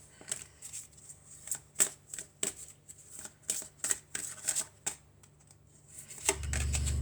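Oracle cards being shuffled for a general and love reading, a rapid run of crisp papery riffs and slaps in an irregular rhythm, close and fairly quiet, with no talk, ending in a low rumble.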